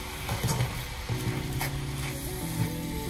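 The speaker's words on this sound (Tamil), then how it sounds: "இப்போ கேஸ் ஹையில் இருக்கு, வதக்கிட்டு இருக்கிறேன்." Spinach sautéing in a pan over a high gas flame gives a steady close sizzle with a few soft stirring knocks and scrapes, moderate in level and without talk.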